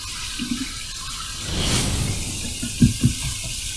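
Cold water from a tap rinsing a face after a shave, a steady hiss of running water that swells midway, with a couple of soft splashes near the end.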